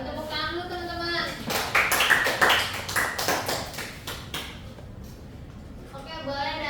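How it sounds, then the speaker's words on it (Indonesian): A small group of classmates in a microteaching classroom session claps briefly in the middle of the clip, a short burst of hand claps framed by a speaking voice before and after. "Tepuk tangan dulu teman-teman."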